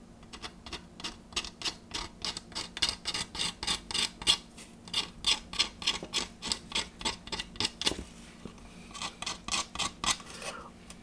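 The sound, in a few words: scraping mould seam on plastic model car body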